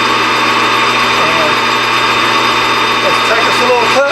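A machine on a machining job with Delrin workpiece runs loud and steady, a constant mechanical hum with strong tonal lines throughout, no clear startup ramp visible.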